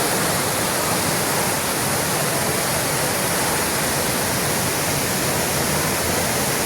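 A powerful monsoon waterfall roars in a dense, unbroken wash of noise, loud and close with no pauses.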